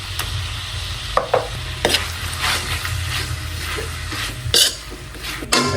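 Tapa fries in a pan with a teaspoon of margarine, a steady sizzle broken by repeated scraping and stirring clatters of the utensil against the pan, close and clear with no talk.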